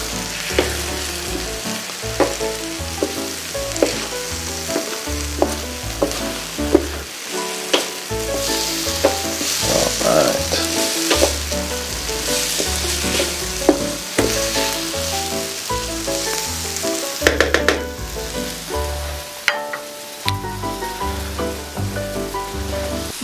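Paella rice being stirred in a frying pan, a loud, steady sizzle with repeated scraping knocks of the spoon against the pan.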